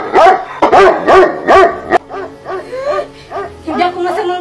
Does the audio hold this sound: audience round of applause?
no